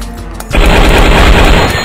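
Loud, sustained machine gun fire from the Zombie Train video game bursts in after a brief quieter moment and continues as a dense, unbroken rattle.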